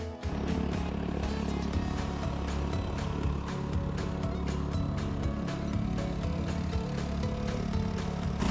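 Small outboard motor on an inflatable boat cruising steadily at low throttle on Florida water, a loud, continuous droning hum with a constant pitch running close up for the whole stretch.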